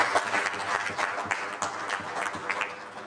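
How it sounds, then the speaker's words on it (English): Conference attendees applaud a doctor, a moderate round of clapping with distinct individual claps standing out, fairly quiet and steady for a few seconds. "So, colleagues, let's give a round of applause to Dr. Pio."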